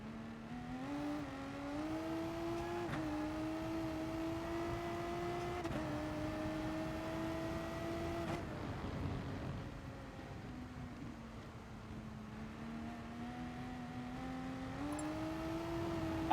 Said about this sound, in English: you see how much later we can brake by aggressive downshifting there.